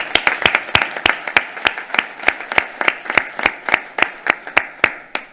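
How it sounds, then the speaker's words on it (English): A small school board audience applauds a student saxophone group from a marching band assessment, with a few distinct hands clapping in a sharp, close, slightly uneven rhythm that continues steadily throughout. "Let's give this group a round of applause."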